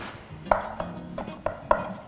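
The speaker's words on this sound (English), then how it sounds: "you're going to use your pastry cutter again, and you're just going to start chopping the egg in" Pastry cutter chopping an egg into flour dough in a bowl, four or five sharp, close taps and scrapes at an uneven pace with soft rustling between them.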